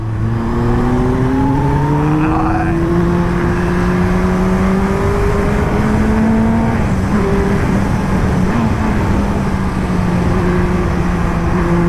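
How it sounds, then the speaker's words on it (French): A four-cylinder Yamaha YZF-R1 motorcycle engine revs loud and close, its pitch climbing through gear changes in smooth rising sweeps, no talking over it. "Le bruit du 4 cylindres, c'est toujours beau un 4 cylindres."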